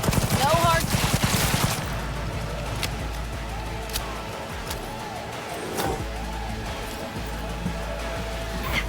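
Gunfire during a firefight in the video game Cyberpunk 2077, loud bursts at the start easing into scattered shots under steady game ambience, with a voice talking over it.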